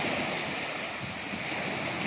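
Sea waves at Romagnolo beach in Palermo, Sicily, rolling in as a continuous broadband wash, loud and close, mixed with wind buffeting the microphone; no talking.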